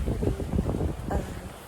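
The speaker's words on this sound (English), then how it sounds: "It's windy, and it's really pretty." Wind gusting across open grassy ground at Big Bend National Park, a steady low rumble buffeting the microphone throughout, moderately loud and without talk.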